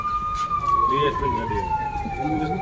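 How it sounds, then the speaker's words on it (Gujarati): Ambulance siren wailing close by as it passes a cotton trading market in Jasdan, a loud steady tone that slowly falls in pitch over a dense background of crowd chatter. "એમ્બ્યુલન્સ આવી"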